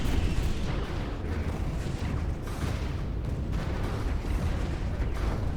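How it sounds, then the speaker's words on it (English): Torpedo salvos and weapon fire from cruisers charging larger ships in a Stellaris space fleet battle, a dense continuous barrage of booms and bursts with no pauses, loud throughout. "Let's watch them as they unleash their torpedoes."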